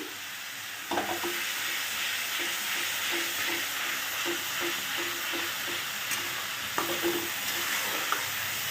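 Grated ginger sizzles in a hot pan with cumin seeds, a steady frying hiss with soft stirring taps and scrapes repeating throughout, no talk.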